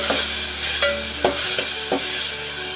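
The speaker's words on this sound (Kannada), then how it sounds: "ಇದು ಸಹ ಫ್ರೈ ಆಗಬೇಕು. ಟೊಮೊಟೊ ಹಾಕ್ತಾ ಇದ್ದೀನಿ. ಇಷ್ಟು ಮೆಣಸು ಫ್ರೈ ಆದರೆ ಸಾಕಿತ್ತು." Tomato and green chillies frying in a pan for North Karnataka brinjal gojju, a steady sizzle broken by four or five distinct scrapes and clacks of stirring, close and clear, with no talking.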